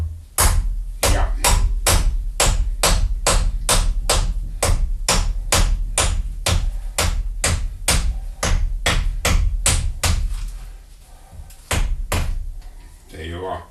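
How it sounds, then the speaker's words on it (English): A long run of sharp, evenly spaced hammer blows on metal of an ATV crane boom rotational lock, close and loud, pausing briefly before a few final strikes. "let's see if we can hammer it away"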